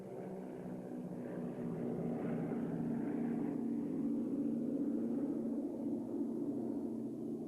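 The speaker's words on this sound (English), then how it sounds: "When Humphrey Bogart told Ingrid Bergman to catch the plane with Laszlo, he meant get into one of these" A Lockheed 10A twin propeller airliner flies past at an air show, its steady droning engines holding a loud, continuous hum throughout with no voices.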